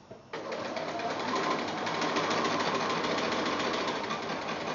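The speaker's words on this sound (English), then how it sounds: "So sewing right on that line." A sewing machine stitches a quilt block along a diagonal line, running in a steady, even mechanical hum from the start to the end with no talk.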